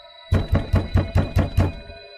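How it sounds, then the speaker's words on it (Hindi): Loud knocking on a window late at night: seven sharp, evenly spaced hard raps in quick succession, close and heavy, with a faint steady hum underneath and no voices. "वो खिड़की पर कोई जोर जोर से खटखटा रहा है"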